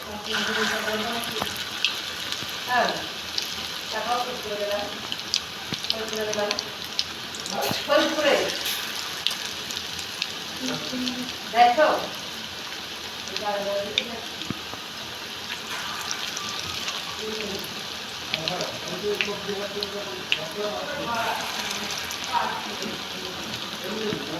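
Potato chops frying in hot oil, a steady close crackle and hiss running throughout, with a voice talking quietly over it now and then.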